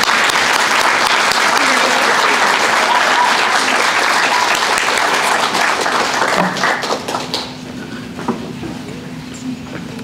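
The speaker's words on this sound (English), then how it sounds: "Now we can applause." Sustained applause from an audience honoring art show award winners at a high school, dense clapping for about seven seconds before thinning out, with cheering voices mixed in.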